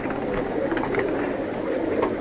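Domestic pigeons at a home coop coo softly and continuously through the short stretch, steady and fairly close, with no talking over them.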